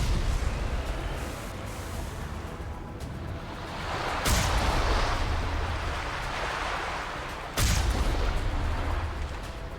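Enemy artillery in Mass Effect booms near a main gatehouse, two sharp blasts standing out over a steady rumbling battle backdrop, the second landing late.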